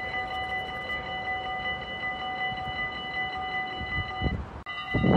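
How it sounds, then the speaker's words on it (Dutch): A train passes near stations in the Dutch Limburg area, a steady broad rumble with a sustained horn-like tone over it, fairly distant, ending in a brief dropout and a louder rise. "we hebben eindelijk weer eens een trein van rechts"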